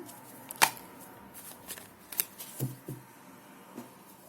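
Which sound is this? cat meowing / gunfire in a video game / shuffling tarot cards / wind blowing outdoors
shuffling tarot cards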